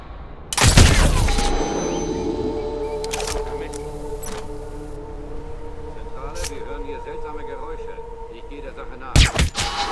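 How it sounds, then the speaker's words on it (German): Gunfire in the stealth action video game Hitman Absolution, with a loud sharp burst of shots, a few scattered reports and a final cluster of shots over ringing tonal game sound, while someone talks throughout. "Nennt man Schüsse, diese seltsamen Geräusche."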